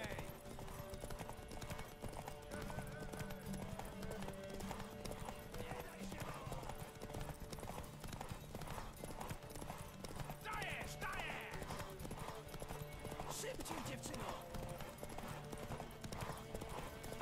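Horse hooves drum steadily with an occasional whinny in The Witcher 3, a dense, continuous galloping clatter with music and ambience, while people talk over it.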